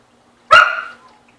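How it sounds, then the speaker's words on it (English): A single sharp dog bark rings out close by in a kitchen during cooking, loud and alone, with a short fading tail. "Forgive me again for my dog."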